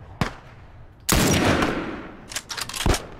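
Gunfire in The Last of Us Remastered, with a single shot followed by a loud sustained burst and then several more quick, sharp shots.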